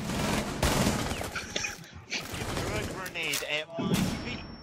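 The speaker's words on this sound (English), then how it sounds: "I threw a grenade in the hostage room." Frag grenade blast inside a hostage room during a Rainbow Six Siege match, heard as loud, dense bursts of gunfire-like detonation noise with brief gaps, busy game sound throughout.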